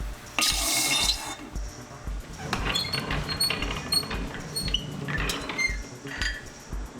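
Hot annealed silver sheet plunged into water during jewelry-making for a silver flower pin brooch, giving a sharp hissing burst at the start followed by bubbling, gurgling water and light metallic clinks, close and fairly loud.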